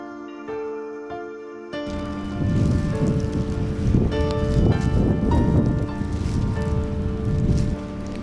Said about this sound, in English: except it's raining, so sorry about that